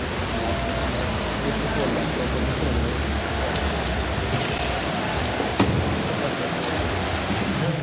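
Steady heavy rain at an outdoor concert, a loud, unbroken roar of drops close by with a faint sharp knock partway through.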